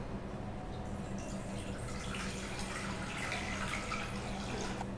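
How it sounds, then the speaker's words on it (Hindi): Tap water runs steadily into a saucepan with a silicone handle in a home kitchen during cooking, a continuous close splashing stream with no talking. "अब इसमें पानी डाल लेते हैं।"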